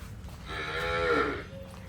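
A Kankrej cow on a farm gives a single drawn-out moo of about a second, close and clear over a low rumbling background.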